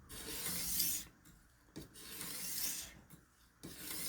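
A knife is drawn in long full-length strokes across a Ruixin Pro sharpener stone, three rasping passes separated by short pauses, close and quiet.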